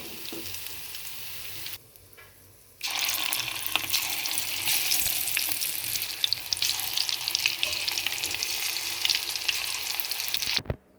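Mushrooms fry in a pan with a loud, steady, hissing sizzle close by, broken by a brief quiet gap near the start, then sizzling continuously until an abrupt stop.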